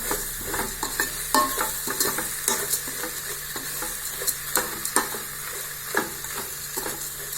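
Food sizzles in a hot pan while a utensil stirs and scrapes repeatedly, sharp clinks recurring every second or so over the steady frying hiss.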